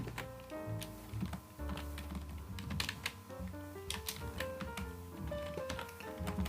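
Typing on a computer keyboard, a steady run of rapid key taps under continuous background music, with no talking.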